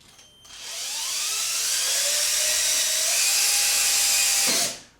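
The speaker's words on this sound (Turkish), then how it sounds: "Duvardan matkapla deliyoruz." A power drill whirs at high pitch for several seconds, boring into a wall over a water pipe, its tone straining slightly as it bores in, then winds down abruptly.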